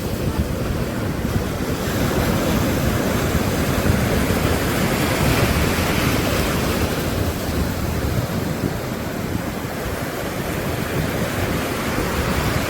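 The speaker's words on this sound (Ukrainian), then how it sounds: "слухати шум моря, легких хвиль" Light sea waves wash in a continuous soft roar of surf, close and steady, with some wind noise over the microphone and no voices.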